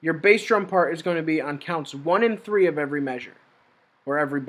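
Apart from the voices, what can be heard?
No distinct noise like a dog, phone or traffic.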